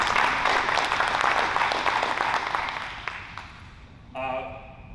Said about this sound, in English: Let's give Amy a round of applause